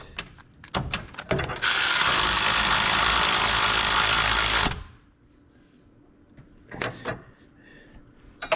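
Power steering bracket bolt on a 1988 Ford Ranger with a 2.9L engine being tightened, a few sharp metallic clicks, then a loud sustained whir of a power ratchet for about three seconds, followed by more clicks.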